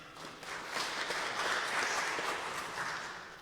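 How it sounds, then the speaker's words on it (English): A church congregation claps together during a sermon, a soft, steady wash of applause that swells and then tapers off, heard from some distance in a large room. "go ahead and clap"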